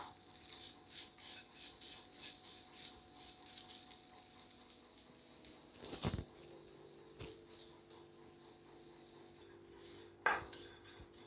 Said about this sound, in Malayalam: തേങ്ങ നല്ലപോലെ മൂത്ത് വരുന്നുണ്ട്